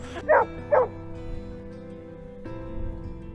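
A search and rescue dog barks twice in quick close succession, loud and near, then stays quiet with only faint background noise afterward.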